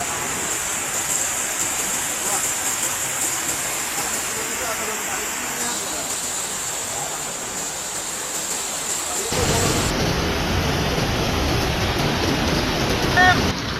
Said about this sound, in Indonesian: Di kawasan Bojongkopo, arus sungai sangat deras dan dilaporkan menggerus pondasi sungai